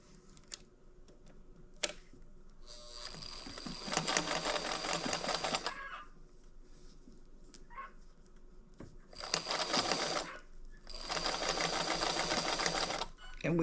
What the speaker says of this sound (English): we're just going to stitch and turn as we stitch all the way